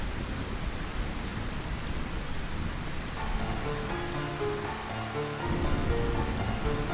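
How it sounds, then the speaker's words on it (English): Steady, soft rainfall patters continuously in a Final Fantasy IX scene, an even hiss of drops on surfaces with a faint low tonal hum rising beneath it partway through. "I find this rain quite pleasant"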